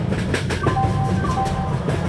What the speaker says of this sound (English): Rajdhani Superfast Express is arriving at platform number 4.